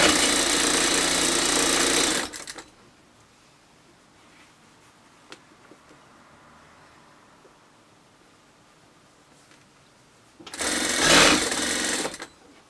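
A sewing machine stitches around a garment waistband in two loud, steady runs of whirring, separated by a long quiet pause with faint handling clicks.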